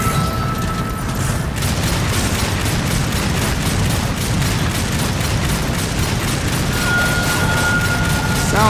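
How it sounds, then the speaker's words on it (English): Rapid bursts of gunfire rattle continuously against a boss in the Darksiders video game, a dense, loud, steady barrage of booming shots with metallic clanks throughout and brief tonal game sounds near the start and end. "Sounds like my bullets are just pretty much bouncing off at this point."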